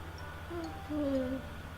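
A bird in The Sims 4 gives a few short, soft tonal hoots, then a longer two-part call, heard over a low steady hum.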